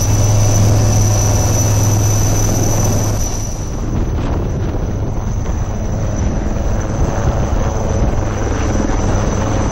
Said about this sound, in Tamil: இந்திய கடற்படை ஹெலிகாப்டர்கள்.